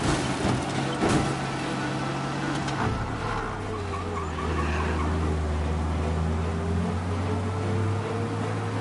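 Car in Mafia Definitive Edition driven fast to escape police, a loud continuous engine drone with a tire skid near the start and shifting engine pitch throughout.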